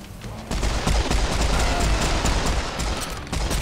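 Rapid gunfire from a pistol in the shooter game Serious Sam 4, loud, sharp repeated shots in a dense burst over chaotic combat noise, no speech.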